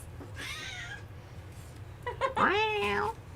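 A cat meows twice, the first call drawn out and the second louder and rising then falling, close but fairly quiet, with a faint hum behind and no speech over it.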